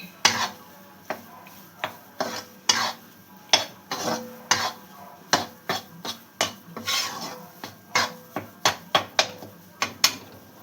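Gram flour roasting in ghee for besan laddu is stirred with a metal spoon in a pan, giving a steady run of close scraping and clinking strokes in uneven rhythm, with no voices.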